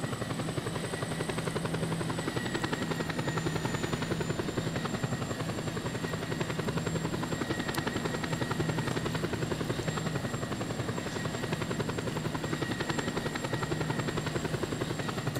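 A helicopter's rotor thrums steadily and loudly throughout in the video game Just Cause 2, a constant whirring drone with a faint high engine whine.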